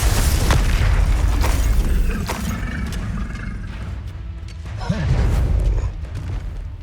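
Spell blasts go off in a Hogwarts Legacy fight, several booming bursts and crashes landing in quick succession at first, then a quieter stretch with one more loud swell of impacts.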